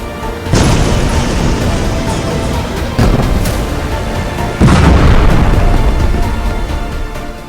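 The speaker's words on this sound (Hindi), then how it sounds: "बेरूत में 200 धमाके" Heavy explosions in Beirut, from strikes on a Hezbollah site, roll out as deep booms, three loud onsets each followed by a long rumbling wash of sound.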